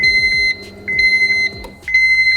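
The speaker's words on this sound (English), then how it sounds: "The cluster is beeping." A digital Honda instrument cluster gives two separate electronic chimes that repeat steadily, a high beeping over a low engine hum, pausing briefly between bursts.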